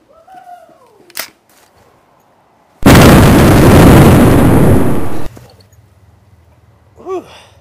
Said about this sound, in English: that's a rifle with some kick, mate